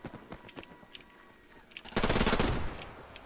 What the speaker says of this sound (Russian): Где-то стреляет в траншеи.